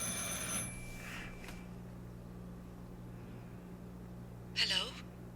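In the video game Martha Is Dead, a telephone bell rings in short bursts at the start and again near the end over a low steady hum, with a voice speaking faintly between the rings.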